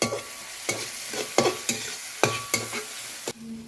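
Onions with salt sizzle steadily in a pan for egg curry, broken by regular scraping strokes of a spoon stirring about every half second, close and without speech.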